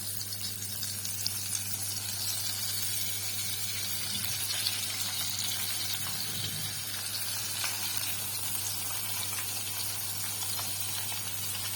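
Cauliflower florets frying in a pan of hot oil give a steady, close sizzling hiss throughout, with a low constant hum beneath and a brief bubbling surge partway through.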